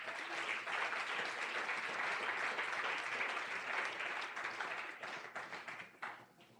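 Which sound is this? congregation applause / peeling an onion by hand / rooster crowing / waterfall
congregation applause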